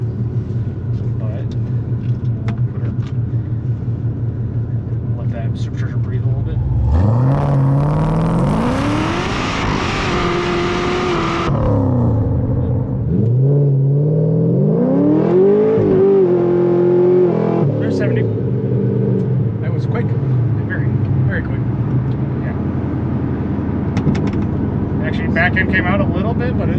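A Vortech-supercharged 6.2L LS3 V8 in a 2009 Chevrolet Corvette idles with a deep rumble, then revs hard twice, the whine climbing and falling before settling back to a loud, steady idle.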